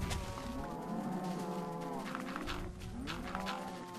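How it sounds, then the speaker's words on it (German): Several cows moo in a Minecraft game, drawn-out lowing calls overlapping one another at moderate volume with no talk over them. "Die Kühe nerven übelst."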